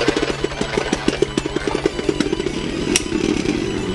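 Beyblade Burst tops, Minoboros Heavy Quake and Odin Heavy Defense, spin and clash in a stadium, giving a dense, rapid rattling buzz with quick repeated knocks, close and steady throughout.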